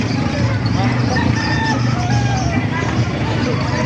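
Gamefowl roosters, Sinibalang, Talisay and Pumpkin Sweater breeds, crow over a noisy background of clucking hens and people chattering close by.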